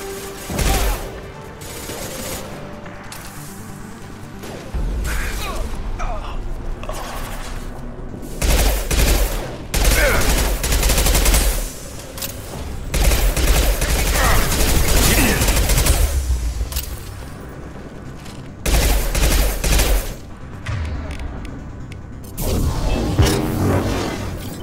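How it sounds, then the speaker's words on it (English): Heavy gunfire from high impact shots in Mass Effect 2 erupts in loud, dense bursts that repeat in clusters, with booming low thuds and whooshing tails between volleys. "Firing a high impact shot."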